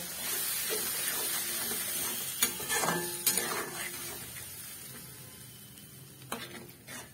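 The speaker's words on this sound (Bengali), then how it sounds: "এবার দেবো সামান্য একটু জল, দিয়ে মশলাটাকে আমি ভালো করে কষিয়ে নেব" Spice masala with cumin powder cooking in a pan, a soft steady sizzle under scattered spoon scrapes and clinks against the metal, with a few sharper stirring knocks.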